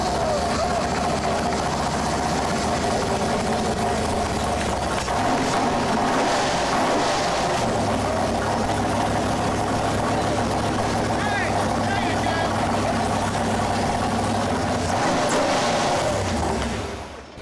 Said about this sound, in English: Fired right up, sounded great, no leaks, no problems.